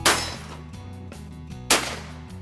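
Old West six guns, rifles and shotguns fired by people in period costume, two loud sharp gunshots with ringing decay, spaced over a second apart.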